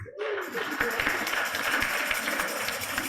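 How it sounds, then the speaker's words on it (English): A church congregation at an Igbo Anglican harvest thanksgiving service breaks into applause, rising abruptly into steady, sustained clapping from many hands, moderately loud and even throughout. "May we give them a round of applause."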